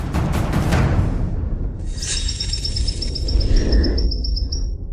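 Bird chirps ring out from trees: a rapid series of high, thin repeated calls enters after a loud, noisy opening and runs for a few seconds before cutting off, with a fainter second call partway through.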